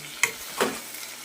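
Cooked pumpkin vegetable stirred in a pan, two distinct scraping strokes of a spoon against the pan over a faint steady sizzle, close and clear with no talking.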